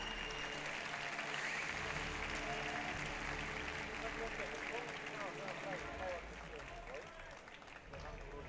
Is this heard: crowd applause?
yes